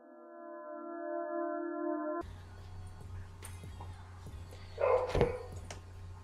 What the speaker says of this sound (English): I'm also very sorry if you can hear a dog in the background